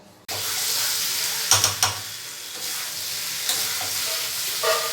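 Meat frying with spices, onion, ginger and garlic in a pan, a loud steady sizzle starting abruptly and continuing, broken by a few sharp spatula scrapes and clatters.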